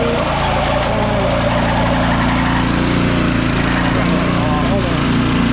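A Craftsman snow blower running with its auger belt turning, a loud, steady close engine drone with a mechanical whir throughout, and people talking faintly over it.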